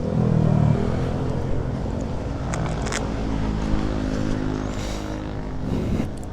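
A Honda ADV 160 scooter, a 2023 model, riding along with a steady low engine drone and wind rush throughout, fairly loud and continuous with no talk.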